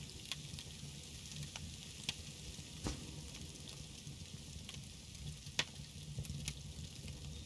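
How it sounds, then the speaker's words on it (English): A steak sizzles in a hot pan with a steady, quiet frying hiss and scattered small pops and crackles throughout, with no talking. "listen to the sizzle now"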